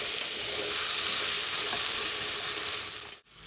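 Chopped vegetables sauté in a hot pan for vegetable pulao, a loud steady sizzle that runs unbroken for several seconds before cutting off sharply.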